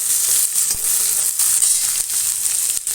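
Food sizzles steadily in a hot pan, a dense bright hiss close by with a few faint scrapes and stirs, continuous and loud throughout with no voices.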